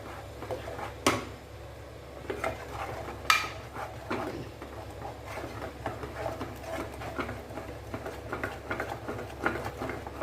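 Gram flour halwa with sugar and ghee is stirred in a pan, giving soft, continuous scraping and tapping with a few sharper knocks against the pan, fairly faint and close, with no talking.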